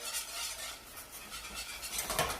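Milk being poured slowly into mac and cheese sauce as it is stirred, a soft wet swishing with faint scraping of a utensil against the pot, quiet and close, with no talking.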